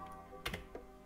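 A few keystrokes on a computer keyboard, close and quiet, come as a short cluster of taps with no one speaking.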